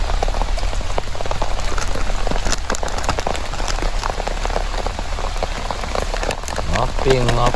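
Heavy rain pours steadily onto a campsite in the forest, a dense continuous patter with sharp drops striking nearby surfaces, growing heavier, with brief voices in the background.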